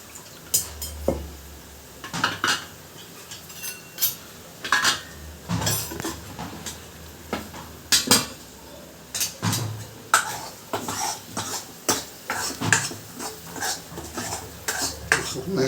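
Spice masala for drumstick (shevga) bhaji sautéed and stirred in a pan, with a spoon clinking and scraping against the metal in repeated, uneven strokes, close and fairly loud throughout.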